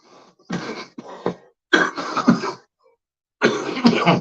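Three or four harsh bursts of coughing and throat clearing, each separated by short pauses, loud and close to the microphone.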